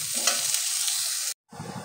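Green beans frying lightly in a pan for fried rice, a steady close sizzle with stirring that cuts out briefly near the end before resuming.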